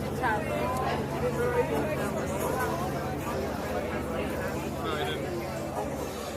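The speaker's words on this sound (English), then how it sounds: "New Orleans Square, even though I am fighting the crowds now" Packed crowd in New Orleans Square at Disneyland, a steady wash of overlapping voices and general babble surrounding the listener, with no single voice standing out.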